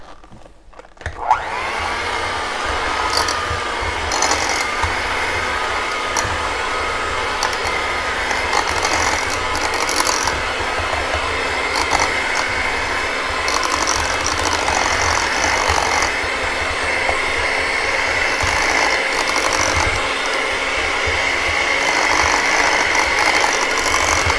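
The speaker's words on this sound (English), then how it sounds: "So I'm going to go ahead and just mix these up." An electric hand mixer whips mashed potatoes with salt for a shepherd's pie, a loud steady motorised whir that starts abruptly and holds without pause for over twenty seconds.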